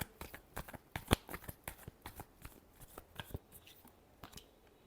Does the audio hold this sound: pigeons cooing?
no